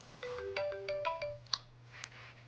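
A mobile phone ringtone plays a short, fairly quiet melodic phrase of bright tones, and a few clicks follow as it stops.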